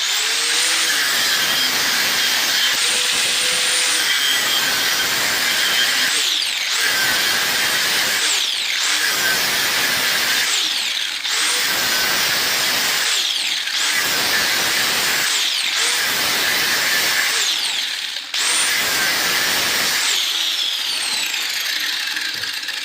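An angle grinder with an abrasive cut-off disc cuts through metal, up close and loud. It makes a continuous high whine broken into about eight repeated cuts with brief dips between them.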